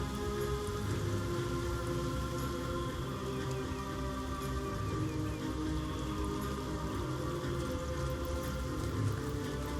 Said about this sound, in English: it basically constantly tells us that we're wet because it's raining